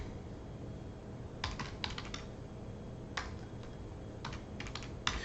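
Computer keyboard typing in short clustered bursts of crisp key clicks separated by pauses, close and moderately quiet over faint room noise.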